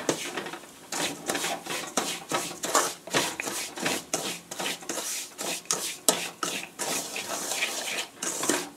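A spoon scrapes semolina roasting in butter in a pan over a medium flame, with repeated rhythmic rasping strokes and brief pauses between them, close and fairly loud.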